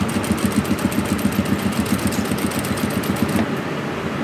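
A sewing machine runs steadily, stitching a side seam in cloth, with a fast even needle rhythm that stops just before the end.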